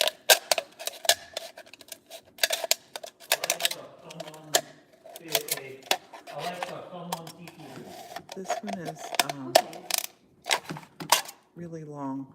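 Scissors snipping an aluminum drink can into strips of roughly equal width, with short crisp metallic cuts and crinkles recurring through steady nearby talk.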